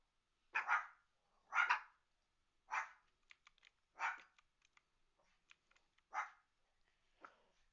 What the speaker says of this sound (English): There's another dog barking outside.